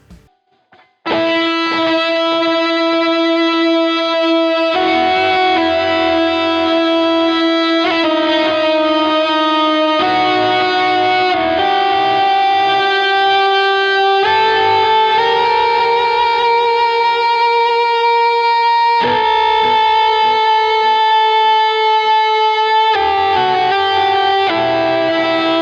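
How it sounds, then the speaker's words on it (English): Electric guitar run through a whammy pedal for a synthy tone, sustained pitched notes shifting in steps and ringing loud and alone for the whole stretch. "So this is a great song to kind of use a whammy pedal for."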